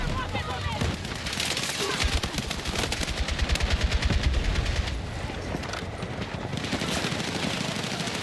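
Rapid, sustained video game gunfire crackles in continuous volleys, with voices heard faintly in the mix.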